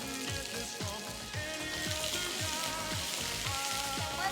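Vegan Garden Gourmet sausages sizzle and crackle in a frying pan, a steady close hiss with scattered pops under faint background music.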